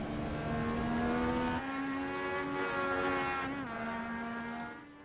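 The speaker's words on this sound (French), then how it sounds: "Et là, Morin est en train de terminer son premier tour ici." Race car engines in a sim racing video game with modified legends cars on the Charlotte Roval road course, a loud sustained harmonic engine drone rising and falling in pitch through shifts and corners, easing off near the end.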